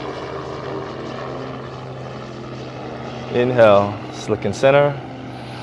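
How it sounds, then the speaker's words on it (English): A helicopter passes overhead at a beach, its steady droning rotor hum sitting low and constant beneath a calm voice that speaks in short phrases. "as the helicopter hovers past"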